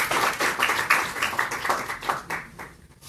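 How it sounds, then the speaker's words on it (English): An audience at a marriage retreat bursts into applause, a burst of close, lively clapping that stays strong and then fades out toward the end. "can we give it a huge round of applause to Sean?"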